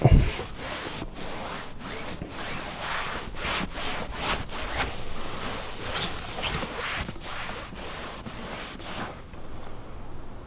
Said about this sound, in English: Now grab a new microfiber towel and wipe off whatever high spots.